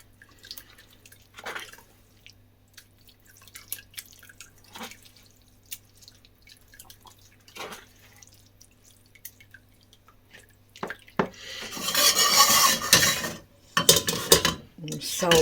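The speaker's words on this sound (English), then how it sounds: "Salvage everything that drips through from there." Liquid from pea pod soup dripping through a strainer, a quiet patter of scattered drips and soft clinks, followed by a louder gush and splashing of liquid pouring near the end, close by.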